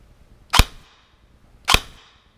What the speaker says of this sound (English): So we're just going to do a dry fire to hear how she sounds.